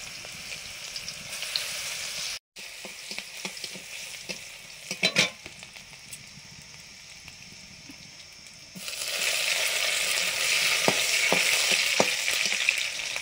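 Nigella seeds and crushed garlic sizzle in hot mustard oil, a steady close frying hiss with stirring scrapes and small pops, growing louder and brighter in the last few seconds.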